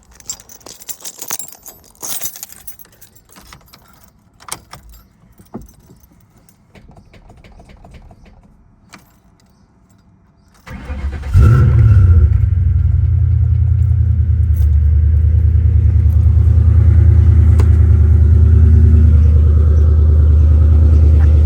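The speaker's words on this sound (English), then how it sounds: "Start it up and show you guys what it sounds like." Keys jingle and clatter for several seconds, then a sports car engine with a T56 transmission cranks and catches, settling into a loud, deep, steady idle rumble close by.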